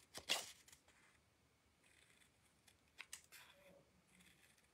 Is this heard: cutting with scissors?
yes